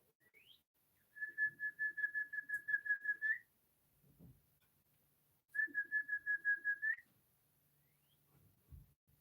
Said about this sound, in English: I'm trying to figure out what kind of bird it is.